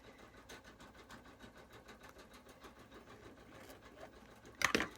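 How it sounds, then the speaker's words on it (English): A sewing machine runs on a small stitch setting with a steady, quiet, rapid mechanical patter, ending in a brief louder clatter. "And then I sew, let's get this back down to a smaller stitch."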